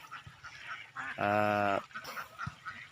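Domestic ducks give one loud, drawn-out nasal quack up close, set between softer scattered calls and rustling.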